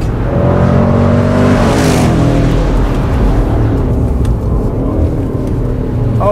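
A Range Rover Sport SVR P575 engine revs loudly and close, its pitch climbing and then settling into a deep, sustained roar under faint talk.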